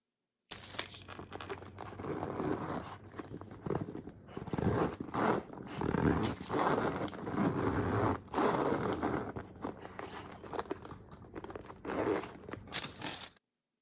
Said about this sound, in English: So now you gotta rub the wax paper all around the zipper line.